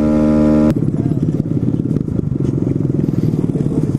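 A small engine on a motorized skateboard drones at high revs near redline, a steady buzzing note that shifts into a rougher, rattling rasp with clattering wheels and wind, close and loud throughout.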